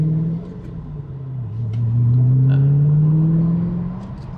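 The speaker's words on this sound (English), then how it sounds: "Throttle response is pretty insane, honestly. You just barely have to touch the throttle." Barn find Ford GT engine, heard close, dips briefly then climbs into a strong rev and holds high before easing back, quick throttle blips with no talk.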